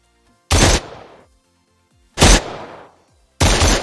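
Three loud, close rifle shots from an Unreal Engine 4 shooter game, each a sharp blast with a short decaying tail, spaced about a second and a half apart with no voices.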